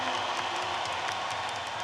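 An arena crowd at a Paralympic ice sledge hockey game between Norway and Sweden at Sochi 2014 gives a player steady applause and murmuring cheers, a dense, distant wash of clapping.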